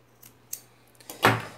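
Scissors snip through crochet yarn up close: a couple of faint metallic clicks followed by one sharper, louder cut near the end in a quiet room.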